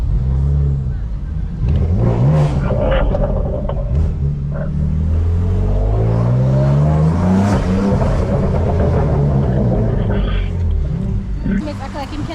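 From inside a 2016 BMW M3 racing a Nissan 370Z, another car flies past, its engine note rising and sweeping over the steady close cabin rumble while people talk throughout.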